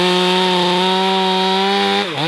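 A chainsaw bores into red pine with a loud, steady, close engine whine that holds an even pitch, then dips and wavers briefly as the cut ends.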